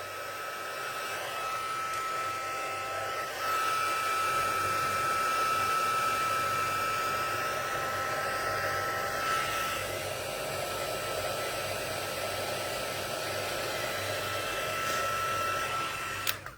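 A hair dryer blows steadily over a drying watercolor painting, a constant airy whir of moderate loudness that holds for the whole stretch and stops abruptly at the end.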